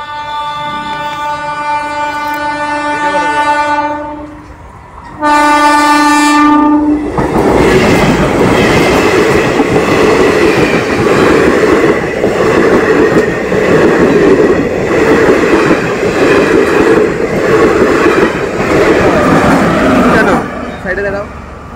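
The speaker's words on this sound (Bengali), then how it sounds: "এটা হলো শিলিগুড়ি টু আলিপুরদুয়ারের ট্রেন লাইন" A train on the Siliguri to Alipurduar line sounds a long, loud, two-part horn, then thunders past close by with a heavy, continuous rumble and rhythmic wheel clatter that cuts off near the end.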